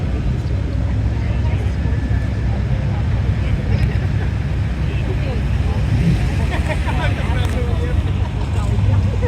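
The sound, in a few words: Ferrari car arriving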